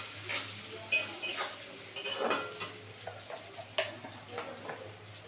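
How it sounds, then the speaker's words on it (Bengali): Spices with a pinch of salt and turmeric frying in a pan for masala paneer, a soft steady sizzle broken by scattered scrapes and taps of a stirring spoon, fairly quiet and close with no talking. "এবার এটা সুন্দর করে একটু ভাজা ভাজা হবে।"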